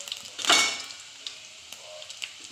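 Mustard seeds, garlic, cumin and asafoetida hit hot oil with a brief loud burst of sizzling that quickly settles into a faint crackle, close and without speech.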